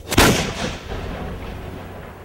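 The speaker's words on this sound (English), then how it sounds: "Even if the chain broke, which it often did under the impact of firing, it simply turned the cannon into the ultimate shotgun." A single heavy cannon blast fires chain shot in a 17th-century siege battle at Clonmel, a sharp loud boom followed by a long rumbling decay, with no voices.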